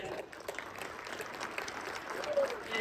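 An audience at a high school Hall of Fame ceremony claps for inductees, a moderate, somewhat distant patter of applause in a hall, with some voices mixed in.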